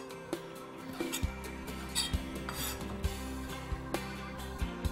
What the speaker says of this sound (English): take these shrimp and we're just gonna cut them maybe each twice